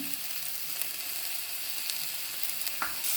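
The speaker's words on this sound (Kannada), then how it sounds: "ಈ ಟೊಮೆಟೊ ಹಾಕಿದ್ಮೇಲೆ ಒಂದು ನಿಮಿಷ ಇದನ್ನು ಹೀಗೆ ಫ್ರೈ ಮಾಡ್ಕೋಬೇಕು" Chopped tomato with salt frying in a pan, a steady soft sizzle with a few faint clinks, heard alone without talk.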